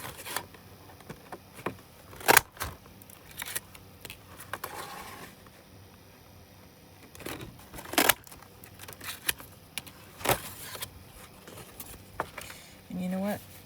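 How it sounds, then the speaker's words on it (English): Scissors snip through paper as it is cut into circles for a junk journal belly band, giving a few sharp, close cuts and rustles spread between quieter handling sounds. "we're going to cut this into circles"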